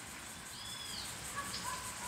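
A collared seedeater (coleiro) calls with a few faint, brief thin whistles that rise and fall against a steady background hiss.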